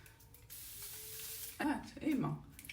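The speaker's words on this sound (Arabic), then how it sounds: "انا كناخذ هذا هو غير فيشل سبراي، هذا غير الماء الماء اللي هو مقطر، وكديري على الوجه ديالك بحال هكا مثلا" A facial mist of distilled water is sprayed onto the face, giving one soft, close hiss lasting about a second before a voice begins speaking.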